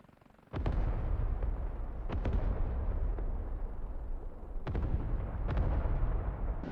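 High-explosive rockets launched from an OH-58D Kiowa Warrior helicopter in the DCS World game: a loud, sustained roar with several sharp blasts spaced through it, heavy and close.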